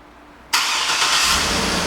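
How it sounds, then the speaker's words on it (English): Quiet stillness, then a 2012 Cadillac Escalade ESV's engine catches abruptly via remote start and settles into a steady, loud idle nearby. "And the car starts right up."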